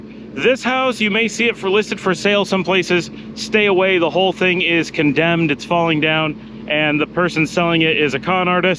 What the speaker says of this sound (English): The trash truck has broken down and is making a lot of noise up here.